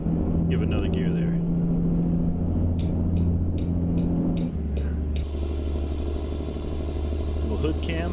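Kenworth T600 truck engine in American Truck Simulator, a steady low drone that drops in pitch around a gear shift midway, with a string of short clicks and someone talking over it throughout.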